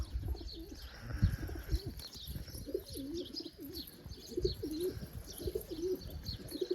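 Pigeons coo repeatedly in soft, rolling calls, with faint chirps and a low rumble of background noise.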